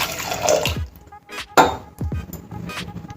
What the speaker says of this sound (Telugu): చేమగడ్డలు మనకు మునిగి అంతవరకు వాటర్ వేసుకోవాలండి.